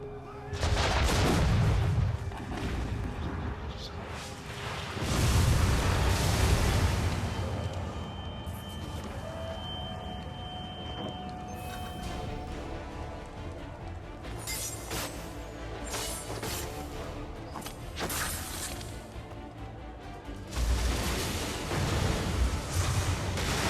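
Cannon fire booms during a battle in Assassin's Creed 3 Remastered: heavy low blasts return at intervals amid continuous gunfire, crashes and battle din.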